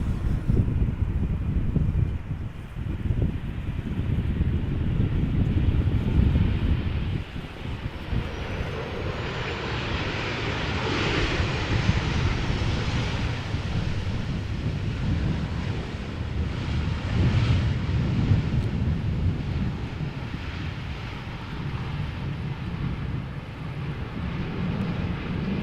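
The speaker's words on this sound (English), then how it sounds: "what you see over here is a departure from 18 left, the Alsmeerbaan" Airliner departing runway 18 left, the Aalsmeerbaan, at Amsterdam Schiphol, a rumbling jet roar at middle distance that swells and eases under gusty wind buffeting the microphone, no one speaking.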